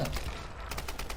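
Gunfire in the Tomb Raider video game comes as a brief rapid series of shots, quiet and evenly spaced, over a dense game background.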